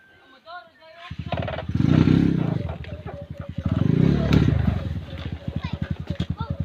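A motorcycle engine revs and idles with a throbbing putter, rising twice in loud surges, while people talk nearby.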